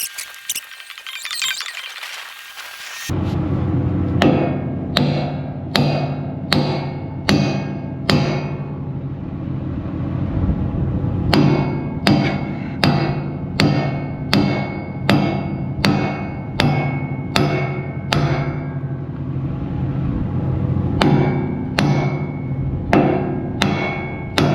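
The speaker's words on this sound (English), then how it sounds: "Let me go get this sledgehammer." Repeated heavy sledgehammer blows ring out against iron on a grapple attachment of a 350LC excavator, sharp metallic strikes coming in steady bursts with brief pauses between series, after a short noisy lead-in.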